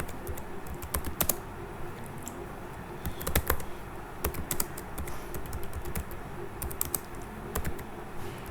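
Rapid keystrokes on a computer keyboard while writing a boolean function in code, coming in irregular bursts with short pauses, close and clear with no voice.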